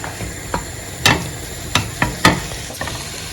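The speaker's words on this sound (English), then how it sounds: "we'll go ahead and fry our minced meat" Minced beef frying in a pan, with a low continuous sizzle broken by several sharp scraping and tapping hits from a utensil against the pan, heard close up and without talk.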